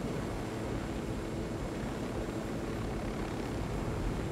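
A helicopter flying in the Ghost Recon Wildlands video game during stormy weather, heard as a steady, dense engine and rotor drone that stays even and continuous throughout, with no talk over it.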